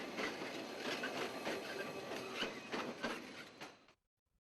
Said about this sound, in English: We also take a look at the coal trains as they traverse the branch to the Swanbank Power Station.